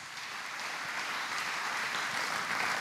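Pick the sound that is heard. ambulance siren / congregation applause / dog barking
congregation applause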